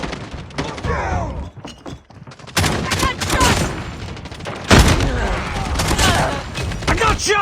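Gunfire crackles in bursts and volleys in a shooter video game with capture objectives, loud and close, with a voice speaking over the shooting.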